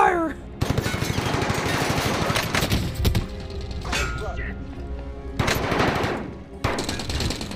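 Loud, close machine-gun fire in the battle-royale game Warzone, long rattling automatic bursts with clanging hits and short gaps between volleys.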